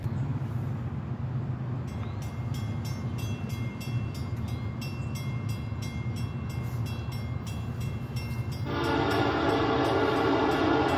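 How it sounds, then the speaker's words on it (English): A Norfolk Southern freight train with a locomotive resembling an SD70ACe rumbles past steadily at Oakwood, Georgia, with a continuous heavy engine drone, rhythmic wheel and car noise, and a brighter burst of high rattling as it continues close by. "it sounds like an SD70 Ace"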